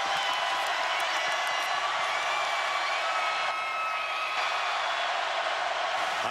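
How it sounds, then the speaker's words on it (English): Steady roar of a large stadium crowd at the 2015 OU vs Tennessee college football game, loud and continuous throughout with no distinct breaks. "And now the crowd in a frenzy"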